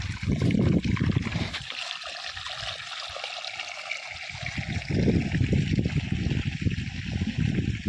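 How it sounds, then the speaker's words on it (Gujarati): Water flowing to irrigate a field, a continuous rushing trickle that fades briefly in the middle and swells again, heard at fairly low level in an open outdoor setting. "પાણી આવે ને એટલે હું પાણી પાઈ લઉં"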